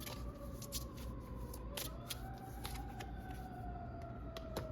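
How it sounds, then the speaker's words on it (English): Sirens wail faintly in the distance, their pitch slowly rising and falling over steady background noise with scattered clicks. "Oh, yeah, you can hear the sirens going off."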